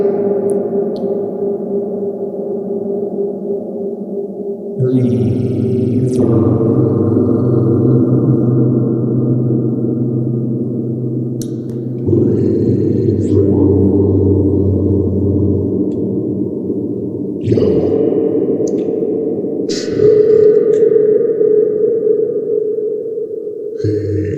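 Sustained vocal tones sweep with a slow, swirling phaser pedal effect, several held phrases shifting and whooshing, loud and alone.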